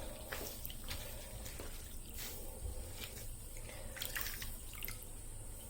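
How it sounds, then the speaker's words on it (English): Water draining out of a kitchen sink after soaking freshly plied handspun wool, a steady low gurgle and wash with scattered drips throughout, fairly close and continuous. "we're ready to take this out of the sink and hang it up to dry. So release the water."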